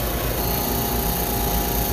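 A refrigerant recovery machine hums and whirs loudly and steadily while pulling refrigerant from a leaking soft-serve freezer, a constant droning motor with a faint tonal whine and no voices.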